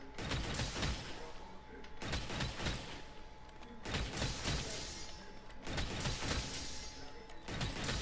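Light bowgun firing normal ammo 2 in Monster Hunter World Iceborne, sharp shots with metallic mechanical clacks repeating roughly every second, loud and close with a faint steady tone underneath.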